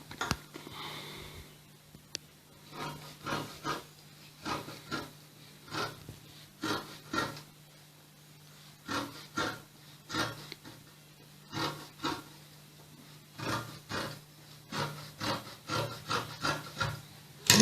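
Scissors trimming excess fabric on a double-layer peplum blouse, producing a series of close, soft rasping snips in uneven bursts, alone with no talking.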